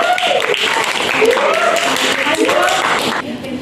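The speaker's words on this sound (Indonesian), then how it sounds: "tepuk tangan" A class of junior high school students claps in a burst of applause while voices chatter and call out over it, ending in a brief quieter moment.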